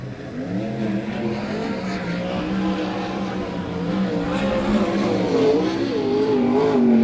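Race cars rolling around a pace lap before the green flag, their engines droning and humming with shifting pitch that swells gradually louder as the pack nears.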